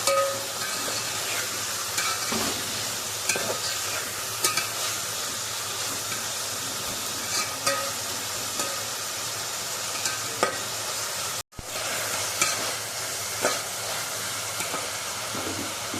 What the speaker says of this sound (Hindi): अब इन वेजिटेबल्स को हम अच्छी तरीके से फ्राई करेंगे।